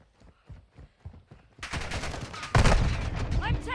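Call of Duty gunfire rattles in a dense, continuous burst after a few quieter thuds like footsteps, loud and close, with game voice chatter mixed in.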